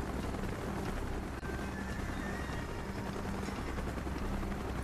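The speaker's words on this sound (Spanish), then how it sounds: "¡Helicóptero en camino, vamos!" A steady helicopter rotor drone in Call of Duty: Black Ops with a low thrumming pulse fills the scene, continuous and fairly loud, with a broad noisy wash over it.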